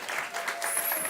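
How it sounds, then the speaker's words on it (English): An audience at a regenerative food systems talk applauds to welcome David Moscow to the stage, a steady wash of clapping throughout the short stretch with no voices over it. "Give David a round of applause."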